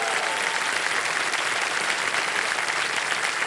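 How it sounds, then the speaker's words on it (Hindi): Studio audience on a Hindi quiz show bursts into dense, steady applause, a continuous wash of clapping filling the short stretch with no voices over it. "ताली बज जाए उनके लिए।"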